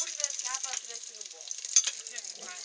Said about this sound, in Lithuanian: O, čia kepa kažkas.